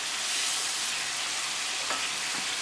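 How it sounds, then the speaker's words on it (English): Salmon pieces coated in masala for an Indian-style butter salmon sizzle steadily in a pan over medium-low heat, with faint scraping as the mixture is stirred; a continuous close frying hiss with no voices. "Once all the spices are nicely combined with the salmon,"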